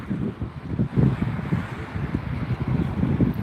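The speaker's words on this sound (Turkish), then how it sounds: "Bir de rüzgar var. Rüzgar." Gusty wind buffets the microphone at the seaside, low rumbling bursts rising and falling without pause, no voices.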